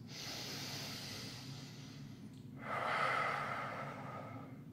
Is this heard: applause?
no